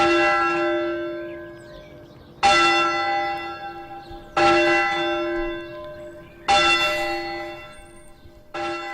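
Church bells ring out in slow, evenly spaced strikes, four clear peals each leaving a long bright resonant hum that decays before the next, heard alone and fairly close.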